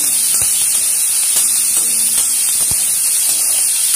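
Drumstick leaves and small onions sautéing in a pan for kootu, a constant loud hiss of frying with a few soft scraping clicks of stirring.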